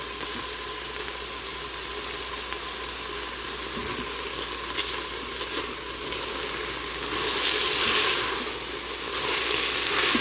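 Three garlic cloves frying in an Instant Pot for Italian beef, a continuous close sizzle that swells slightly toward the end, heard alone without talk.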